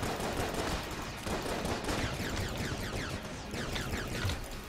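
Rapid, dense gunfire from the video game Enter the Gungeon during a champion boss fight, continuous volleys of overlapping shots, steady and busy, with no talking.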